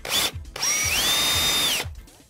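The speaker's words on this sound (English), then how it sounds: "I drill a quick hole here" Handheld power drill drills a hole in a wardrobe drawer: a loud, close whine that spins up, then holds a high steady pitch as it bites into the board for about a second before stopping.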